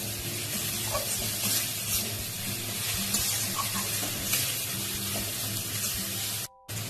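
Tomato pieces fry in a pan with ginger paste for a spicy crab curry, a steady close crackling sizzle that continues throughout with faint clinks and a brief dropout near the end.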